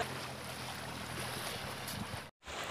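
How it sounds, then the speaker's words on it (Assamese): Wooden boat crossing a river, with a steady wash of water and wind noise close to the microphone, broken by a brief dropout near the end. "মই আছোঁ এতিয়া নাৱৰ মাজত নদীৰ মাজত আৰু নদী পাৰ হৈ আছোঁ"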